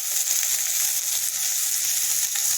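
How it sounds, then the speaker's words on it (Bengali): Ginger-garlic paste is added to onions frying in hot oil for chicken biryani, giving a steady, close, bright sizzle that hisses evenly throughout with faint crackles and no talk. "এই পেঁয়াজের মধ্যে আদা রসুন দিয়ে দিচ্ছি"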